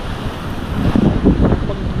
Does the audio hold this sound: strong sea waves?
yes